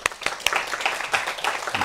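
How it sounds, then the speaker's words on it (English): Scattered clapping from a university lecture audience for a guest database speaker, a few sharp distinct claps at first that thin into a light, brief patter. "All right, let's give Moshe a round of applause."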